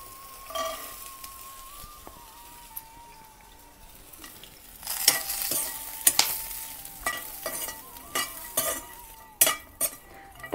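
Wild brinjal and roasted peanuts sautéing in a little oil for chutney; a faint sizzle at first, then from midway repeated close scraping and clacking stirring strokes against the pan over the frying.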